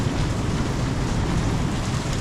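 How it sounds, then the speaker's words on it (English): Heavy rain falls on a narrow street in Macau's historic nightlife area, a dense, steady hiss that fills the scene with no break and no voices. "It's really raining a lot lately."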